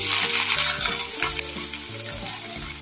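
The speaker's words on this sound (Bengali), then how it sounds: "পেঁয়াজটা দিয়ে একটু ভালো করে পেঁয়াজটা ভেজে নিচ্ছি" Chopped onion frying in mustard oil with black cumin, a loud, dense, continuous sizzle close up, with faint stirring scrapes underneath and no voices.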